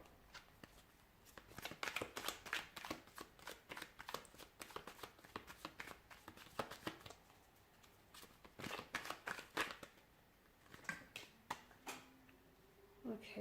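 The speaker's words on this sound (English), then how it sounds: "Give the cards a shuffle." Tarot cards being shuffled by hand in a series of crisp riffling bursts and flicks, close and fairly quiet, with short pauses between rounds.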